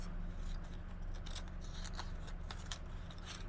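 Scissors cutting paper in half for a craft, a series of soft close snips and rustles over a quiet low hum, with no talking.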